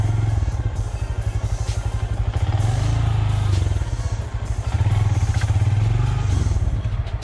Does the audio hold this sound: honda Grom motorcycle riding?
yes